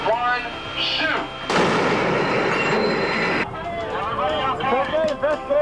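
Underwater shock trial explosion hitting the destroyer USS John Paul Jones (DDG 53), a sudden loud broadband roar lasting about two seconds and then cutting off, with voices speaking before and after.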